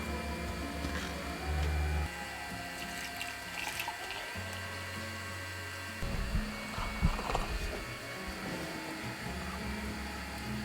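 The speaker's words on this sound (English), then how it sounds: "I'm going to do it in the velvetizer because it says to whisk the milk, the warm milk in." A Velvetiser hot chocolate machine whisks warm milk with a close, steady motorised whir. Its drone shifts in pitch and intensity over several seconds, with faint liquid swirling underneath.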